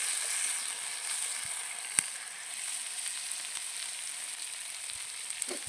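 Small and big onions frying in tempering oil, a dense bright sizzle that holds steady and close, with a couple of faint spoon taps.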